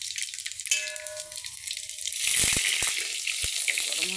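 Panch phoron and dried chillies hit hot oil in a pan: quiet kitchen background at first, then a sudden burst of loud sizzling and crackling frying that carries on with a few sharp pops.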